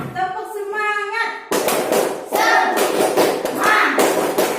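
A school class performing a rhythmic spirit clap, sharp group claps and thumps in short patterned bursts following a teacher's sung prompt, with children chanting along between the claps.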